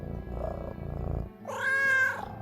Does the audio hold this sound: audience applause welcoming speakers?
no